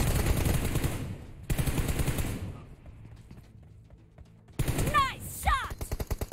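Gunfire rattles through a 2v2 team deathmatch video game match: loud automatic bursts and rapid shots, broken by a quieter pause before more sharp firing with metallic weapon sounds.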